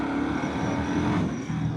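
A 2025 Indian Sport Scout motorcycle pulls hard in first gear, a loud, close engine roar with rising revs and rushing wind noise over a brief burst.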